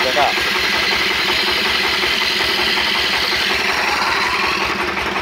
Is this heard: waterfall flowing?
no